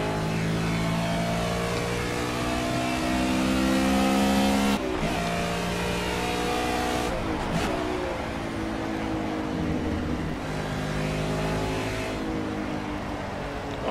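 A GT race car in the Project CARS racing game at Silverstone accelerates hard, its engine roaring loudly and continuously with rising revs and gear changes as an Aston Martin V12 chases close behind.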